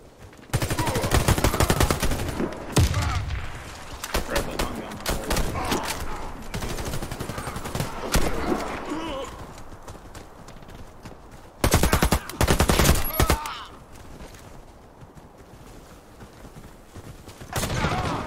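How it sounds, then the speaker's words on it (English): Video game gunfire, bursts of rapid automatic shooting and volleys of shots, loud and close, with a brief lull in the middle before another sharp burst and a final flurry near the end. "Where are you shooting from?"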